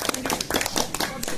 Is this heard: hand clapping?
yes